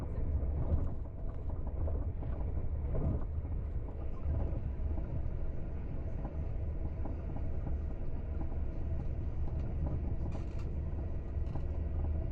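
A DSB type ET train passing through Nyborg station, a steady low rumble of wheels and running gear with occasional rattles and clunks, continuous for about twelve seconds.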